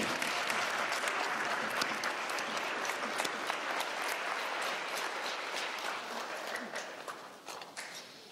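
Applause from a crowd at a radiography pinning ceremony for graduates, a dense, sustained wash of clapping from many hands that stays even and then slowly tapers off toward the end.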